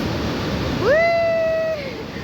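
A swelling stream below rushes with a continuous broad wash of water noise. Partway through, a brief whining, meow-like tonal call rises over the flow.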